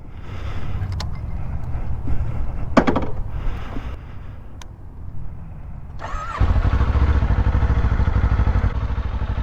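A 2024 Kawasaki Ninja 500 motorcycle with ABS: handling clatter and clicks at first, then the engine fires and settles into a loud, close, steady idle rumble.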